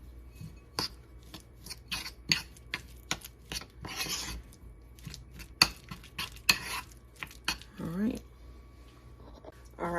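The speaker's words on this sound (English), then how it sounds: "And then we're going to mix this together." Minced garlic gets stirred into ingredients in a bowl, with a run of close, sharp scraping and clinking strokes of a utensil against the bowl, and a voice speaks between them.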